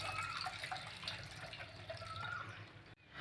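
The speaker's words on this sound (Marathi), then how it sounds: "डाळीचं पाणी गाळून घेऊयात." Water from cooked chana dal drains through a sieve, making a soft, steady trickle and patter with a few drips. The sound stays faint and close, then stops abruptly near the end.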